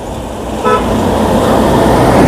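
A car approaching on a roadside while hitchhiking, its engine and tyre roar swelling steadily louder and close, with a short horn toot near the start and no talk.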